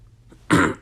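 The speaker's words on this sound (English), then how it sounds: "I'm coughing a lot" A man with a bad winter cough lets out a single short, harsh cough, loud and close, after a moment of near silence.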